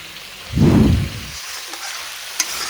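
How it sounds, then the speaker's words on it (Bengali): Fish curry made with onion paste and chilli paste cooks in a pan, giving one short, low burst of sizzling and bubbling followed by a quiet simmer and a small click near the end. "মাছের ঝোল হচ্ছে পেঁয়াজ বাটা লঙ্কা বাটা দিয়ে মাছের ঝোল"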